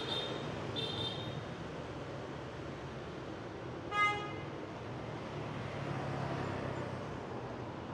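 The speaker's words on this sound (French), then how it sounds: "avec le bruit de la circulation et des klaxons en fond sonore" Steady street traffic in Vietnam hums in the background, with a few short honks early on and one louder, sharper horn blast midway.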